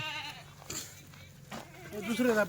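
A Kathiawadi goat bleats loudly near the end, a wavering nasal cry, following softer animal sounds and some background voices.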